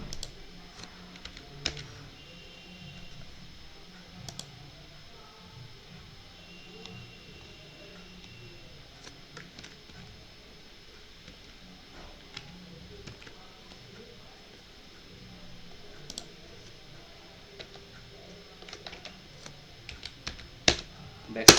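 A computer keyboard is typed on in quiet, scattered bursts of soft clicks and taps, with a few sharper key strikes, while a person talks throughout.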